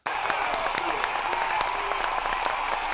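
An audience at a political address claps steadily and densely throughout, a continuous wash of many hands at moderate loudness with a faint voice underneath.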